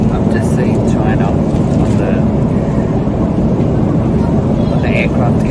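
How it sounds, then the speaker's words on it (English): Steady, loud roar of a China Southern airliner cabin during its descent into Guangzhou Baiyun International Airport, a constant engine and airflow rumble with no pauses. "Here's the descent into the Guangzhou Baiyun International Airport."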